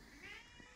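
A pet cat's single short meow, faint and brief under a soft room background, with no other voices.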